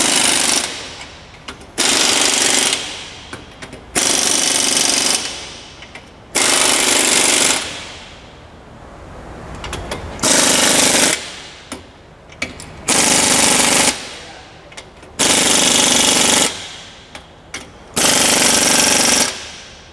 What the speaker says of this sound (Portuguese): vamos conferir o aperto dos grampos